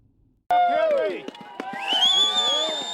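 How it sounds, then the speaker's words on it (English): A burst of excited cheering and whooping from skiers and snowboarders erupts suddenly after silence at a new ski lift, with many voices shouting and hollering together, loud and close. "That's the sound of happy skiers and snowboarders cheering on the new Interconnect lift."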